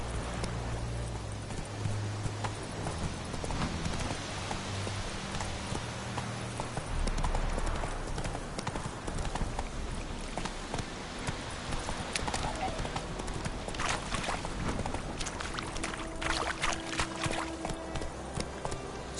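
Hooves of the horse Roach clip-clopping in a rhythmic trot in The Witcher game, steady repeated hoof strikes over ambient background, with occasional tack and movement sounds.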